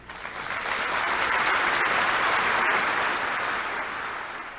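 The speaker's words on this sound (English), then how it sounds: "Applause greeting a new delegation which is solemnly seated in its place in the Assembly Hall" United Nations General Assembly hall filling with applause as the delegation of the Republic of Cameroon is seated, a broad steady clapping that swells and then eases slightly toward the end.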